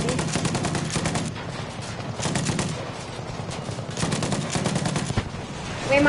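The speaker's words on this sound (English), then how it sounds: "Alright, I'm shooting in the tank, you see?" Rapid bursts of gunfire from a tank position in Battlefield on PS5, loud repeated volleys in several clusters with short pauses between them, and a voice talking over parts of it.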